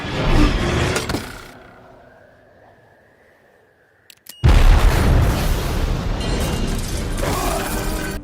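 A small cartoonish explosion effect: a loud burst that fades into a thin rising whistle, then a second sharp blast followed by a sustained roaring rumble of debris that continues to the end.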